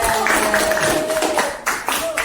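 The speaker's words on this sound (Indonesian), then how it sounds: "Kasih tepuk tangan dong." Clapping from a group fills a classroom, a dense patter of hands with voices talking over it, fading briefly near the end before resuming.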